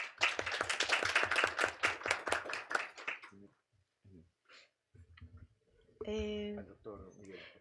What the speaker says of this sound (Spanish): Un fuerte voto de aplausos, por favor